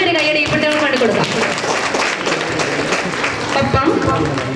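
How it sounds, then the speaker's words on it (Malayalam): Applause for children at a school Christmas celebration, with crowd clapping running under loud speech and music, steady and close, with no clear break. "നമുക്ക് നല്ലൊരു കയ്യടി ഈ കുട്ടികൾക്ക് വേണ്ടി കൊടുക്കാം."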